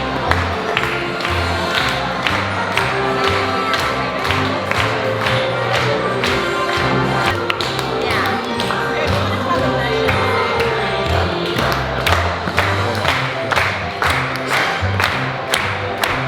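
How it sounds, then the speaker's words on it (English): Restaurant crowd at Artist Point clapping in steady rhythm along with the Snow White dance, sharp regular claps over music and a lively room murmur, continuous and fairly loud. "They do a dance here."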